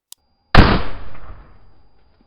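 A single sharp, loud gunshot from a 14.5-inch-barreled 5.56 Noveske AR rifle with a 20-round Colt magazine, fired in a watermelon test. A faint tick comes just before it, and the blast rings out and decays over about a second and a half.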